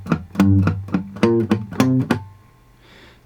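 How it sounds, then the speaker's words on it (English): Acoustic guitar plays a short rhythmic phrase of a theme tune, plucked notes mixed with muted, percussive dead-note clicks, then fades into quiet. "We're going to put some dead notes in so it'll sound like this."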